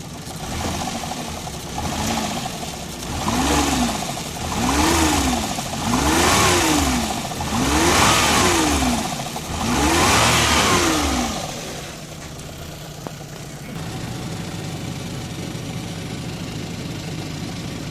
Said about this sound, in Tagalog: medyo saba pod gamay ang iyang makina